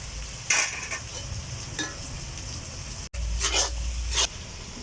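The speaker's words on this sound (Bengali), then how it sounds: "দিয়ে দিলাম জিরা গুঁড়া" Sizzling and stirring as cumin powder is added to frying spices in a pan for a Bengali-style duck curry, with a few brief scraping bursts over a steady low hiss.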